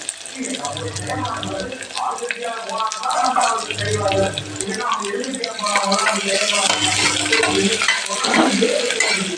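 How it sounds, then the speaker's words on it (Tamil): Sliced big onions frying and being stirred in a pan for biryani, a steady sizzle with periodic scraping strokes, close and fairly loud, with a voice talking throughout. "அதுக்கப்புறம் பெரிய வெங்காயம் அரிஞ்சு வச்சுருக்கேன், அதை போடுறேன்."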